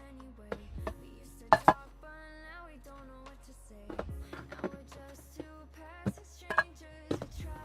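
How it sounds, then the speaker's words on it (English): Pieces of aluminum are handled and set down, giving scattered sharp metallic clinks and taps with faint ringing tones between them, close and otherwise quiet. "Oh, love the sound of good aluminum."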